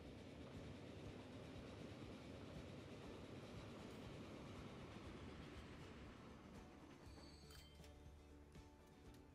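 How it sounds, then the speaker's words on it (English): A train speeds along the tracks in the Transport Fever 2 video game, a steady, dense rumble of wheels and carriages that stays loud and continuous throughout, with faint higher tones briefly appearing near the end. "see how fast the train will get to now."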